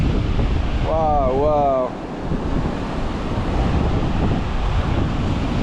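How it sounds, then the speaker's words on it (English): Surf and gusting wind roar on an empty beach, a loud constant wash of noise with heavy wind buffeting on the microphone, while a voice briefly exclaims near the start. "This beach is so empty."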